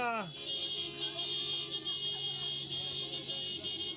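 Several car horns honk and blare together in a sustained, overlapping chorus during a graduation car procession, with people talking underneath.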